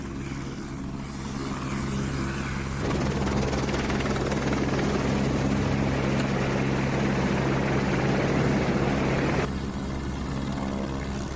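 A rescue helicopter flying overhead, its rotor producing a loud, continuous throbbing drone that grows stronger in the middle and holds steady throughout.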